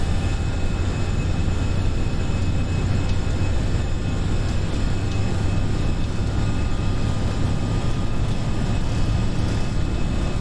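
A simulated Airbus A320 airliner's engines roar steadily at takeoff thrust in an FSLabs flight simulator, a loud, continuous broadband rumble with a low hum and no break.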